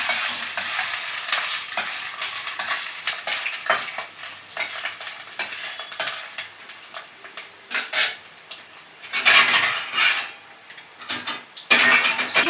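Paneer and potato lightly frying in a pan give a gentle sizzle, while a spatula stirs, scrapes and clatters against the pan in irregular bursts, close and without speech.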